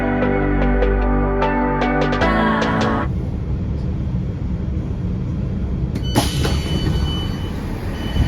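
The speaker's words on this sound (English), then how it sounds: "there goes the slightly delayed 1213 Great Western Railway service to Banbury via Oxford from Didcot Parkway" A Great Western Railway train passes with a loud, steady broadband rumble and rushing noise. Tonal whines and beeps come at the start, and another tonal whine joins near the end.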